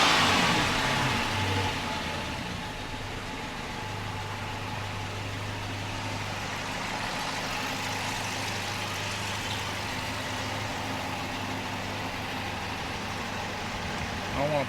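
A V8 Dodge Charger engine idles with a lumpy, uneven rumble after new spark plugs were fitted, a steady close low drone with a loping beat, under faint background talk.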